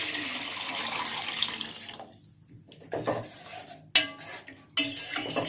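Kitchen clatter of pots and utensils with water splashing and sloshing into a pot of rice for egg biryani, several short bursts, close by.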